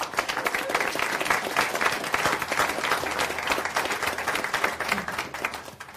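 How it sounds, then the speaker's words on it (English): An audience at a Los Angeles startup and entrepreneur forum applauds steadily for several seconds, dense clapping from many hands filling the room at a moderate, even level. "So a quick round of applause for our panelists."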